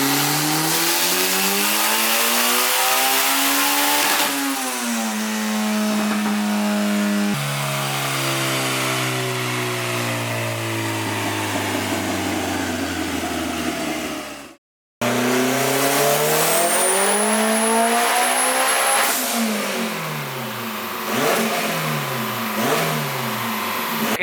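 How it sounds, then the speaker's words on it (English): Loud K24 car engine with an upgraded turbo revving hard on a dyno's rollers, climbing and falling in pitch through repeated pulls, with a brief cut to silence and a whistling turbo. "car is back on the dyno"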